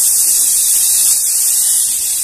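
Chickpeas tossed into a hot pan, producing a dense, loud, even hiss of frying that holds steadily for about two seconds with no talking.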